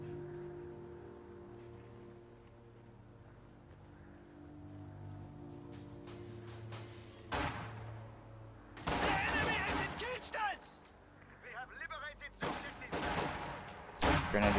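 Infantry fighting in a strategy game, with grenadiers engaging conscripts holed up in a building, brings bursts of gunfire and explosions. Sustained volleys erupt in the second half over a low droning backdrop.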